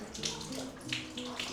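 Water pours steadily from a tap in a cave home in Matera, Italy, spilling like a small waterfall with a soft, continuous splashing rush that stays moderately quiet.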